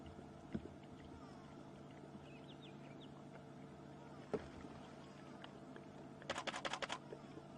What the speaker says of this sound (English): Sorry guys, if you hear that clicking, that's just my camera.